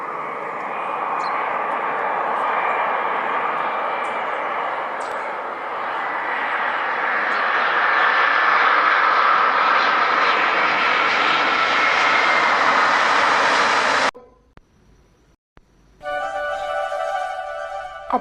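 A propeller aircraft's engine roars loud and steady at an airport, growing slightly as it passes and then cutting off abruptly; afterward a different sound with music-like tones follows.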